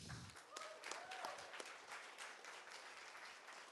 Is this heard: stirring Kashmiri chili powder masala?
no